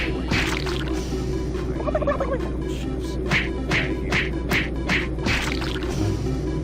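A turkey in the Super Turbo Turkey Puncher 3 arcade minigame in Doom 3 lets out a run of short gobbling calls amid punchy game effects, loud and close with no talk.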